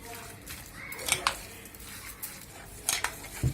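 Onion and stuffing filling for chicken-stuffed peppers being stirred in a bowl, with scattered wet squishing and light clinks of a utensil against the dish, a few sharper knocks standing out over quiet background.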